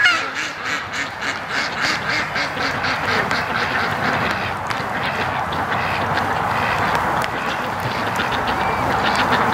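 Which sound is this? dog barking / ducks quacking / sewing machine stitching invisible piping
ducks quacking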